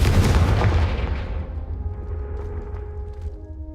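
A Confringo fire spell bursts in Hogwarts Legacy: one loud, booming blast at the start that rolls into a fading rumble with lingering crackle and a low tonal hum.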